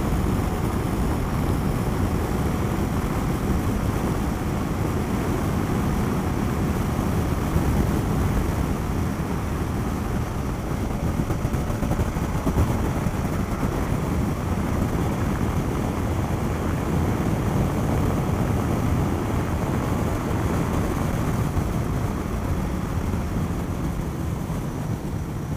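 A BMW F800GS motorcycle engine drones steadily while riding, a continuous, buzzy rumble mixed with rushing wind across the whole stretch, loud and unbroken with no talking.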